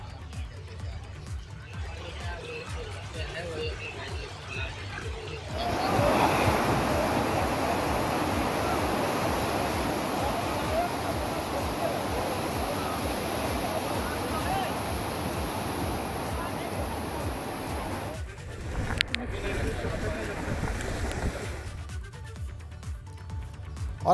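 The flooded Rapti river rushes after heavy rain, a steady broad roar of churning water that holds for most of the stretch after a quieter start, with a voice speaking over it.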